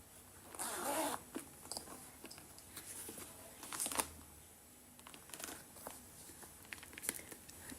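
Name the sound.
zipper on Chanel caviar calfskin flap bag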